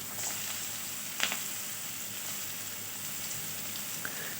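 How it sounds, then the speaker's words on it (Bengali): Chopped onions sizzle steadily in hot oil with black cumin seeds for a Bengali fish curry, a continuous close frying hiss with a few small pops and stirring clicks. "পেঁয়াজগুলো একটু লাল করে ভেজে নিতে হবে"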